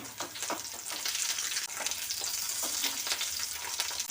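A sweet corn masala cutlet fries in oil in a pan, giving a steady close sizzle with crackling bursts throughout.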